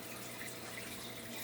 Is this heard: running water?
yes